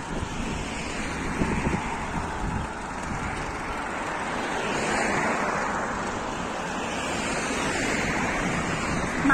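Sea waves wash beside a coastal road at Muttrah beach in Muscat, a continuous broad roar with gentle swells mixed with wind noise and passing traffic, with no talking.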